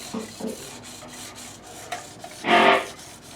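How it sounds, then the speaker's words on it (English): Short, close rubbing strokes of 1000 grit sandpaper against the fret edges of a guitar, a few soft scrapes followed by one louder, longer rasping pass, with no talking. "Can take a little 1000 grit sandpaper and just kind of hit these edges."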